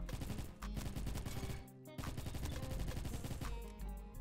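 Rapid automatic UMP-45 submachine gun fire in the online shooter Bad Business, loud and close, in sustained bursts with a brief pause midway.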